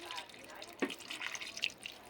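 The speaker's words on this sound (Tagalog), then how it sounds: "Lagyan natin siyang konting tubig." A little water is poured into a cooking pot of coconut-milk stew with chili and vinegar, giving soft splashing trickles and drips, close but faint, while someone speaks alongside.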